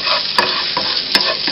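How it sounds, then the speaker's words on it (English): Finely chopped fresh ginger sautéing in a hot pan, a loud steady sizzle with a few sharp scraping stirs, close and alone with no voices. "Okay, so saute that for about a minute or so."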